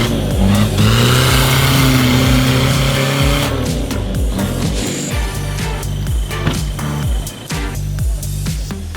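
A heavy production off-road rig at the Rainforest Challenge jungle stage in Malaysia roars and revs hard at the start, engine note rising and changing loudly up close, with squeals and mechanical clatter.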